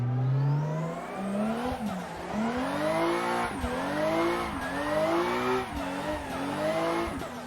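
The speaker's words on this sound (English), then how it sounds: "it's just enough to keep your wheels spinning, but you're not really gaining any speed" A drifting car in the Assetto Corsa racing game revs hard in repeated rising surges with tires squealing while the wheels spin, loud and close throughout with no talk.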